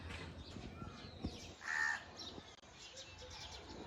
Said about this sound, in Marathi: कावळा ओरडत आहे.